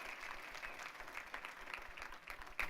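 Congregation applauding at a Spanish-language church service, a steady dense wash of clapping across the whole stretch with a brief louder burst near the end.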